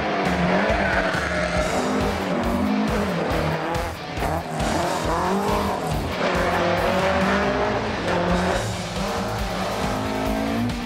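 A rally car is driven hard on a rally stage, the engine rising and falling through quick gear changes, tires squealing and skidding, captured close and loud throughout with no voices.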